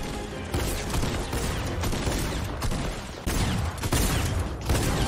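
Dense, continuous gunfire crackles through a Fortnite match, rapid shots and impacts layered over game noise, loud and close for several seconds without speech.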